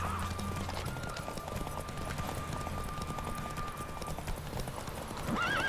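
A horse in the video game Witcher 3 gallops with a steady, rapid clip-clop of hooves, moderately loud, and neighs near the end.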